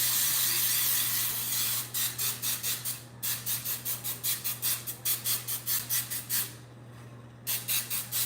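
Spray can coating a baking pan for a sour cream pound cake, a long hiss followed by a quick series of short rhythmic spray bursts, with brief pauses, close to the mic over a low steady hum.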